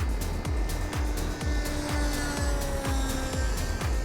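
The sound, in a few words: Wasp model plane flying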